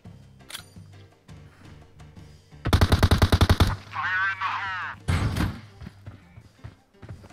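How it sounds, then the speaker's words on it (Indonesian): PUBG Mobile gameplay carries rapid automatic gunfire in a dense burst of about a dozen sharp shots, followed by louder game effects and another short volley, with voices talking over the game. "Maaf tadi gua nembak gak kena lagi."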